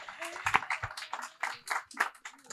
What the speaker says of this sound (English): Round of applause. Y'all can keep that going.